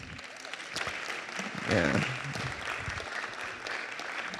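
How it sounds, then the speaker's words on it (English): Audience at a city council meeting claps in a steady burst of applause that swells midway and then settles, with a brief spoken word mixed in. "Come on, let's give them a hand clap."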